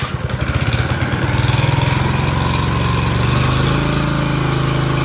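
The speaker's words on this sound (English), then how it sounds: "start up the mower to let it burn off any fuel" A Honda lawn mower engine runs steadily with a loud, continuous drone, its firing rhythm audible throughout as it burns off the fuel left in the carburetor after the fuel supply has been shut off.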